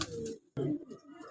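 Pigeons coo at close range at a Faisalabad breeder's loft selling nil dumbe pigeons, two bursts of low throaty cooing with a short pause between, alongside faint background chatter.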